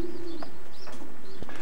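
Racing pigeons coo in a loft, a few soft, low, rounded calls with faint chirps between them, close by and without voices.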